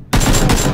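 AK rifle fire in the battle royale game PUBG, a short loud burst of rapid automatic shots cracking out one after another with no talk.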